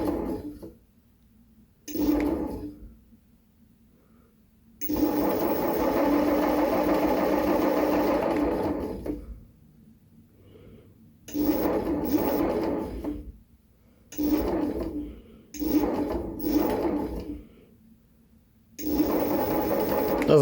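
A repaired electric bike hub motor, fixed for a broken Hall sensor wire, spins up in bursts, a steady whirring hum that starts and stops repeatedly, some runs long and others short, loud and close with no talking.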